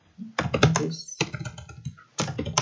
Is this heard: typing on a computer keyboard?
yes